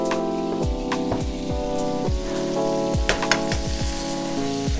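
A big glob of butter sizzling around salmon fillets in a non-stick pan, a dense, continuous crackle and spatter with scattered sharper pops standing out, no voices.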